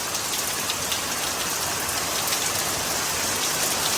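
Heavy rain falls steadily on surfaces in a village, a dense, loud and even hiss with no break and no voices.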